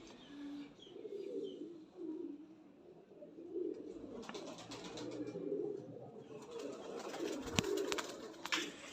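Young golden teddy pigeons with deep red eyes coo softly and repeatedly at moderate distance, low murmuring calls overlapping with faint rustling and occasional sharp background clicks.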